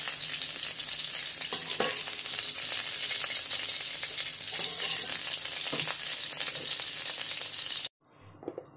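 Cauliflower pieces fry in hot oil, giving a steady bright sizzle close up with occasional stirring clinks, until the sizzle cuts off abruptly near the end.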